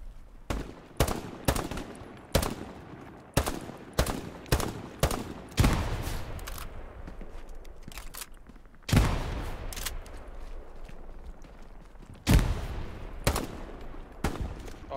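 Bolt-action rifle fire in a first-person shooter king-of-the-hill match, a string of loud sharp cracks spaced a second or so apart, then a few more shots with lingering echo tails and a busy battlefield background.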